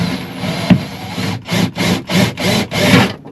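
A drill grinds into wood aboard a small sailboat in several rough, rhythmic pulses after a stretch of steady scraping, close and fairly loud, with no voices.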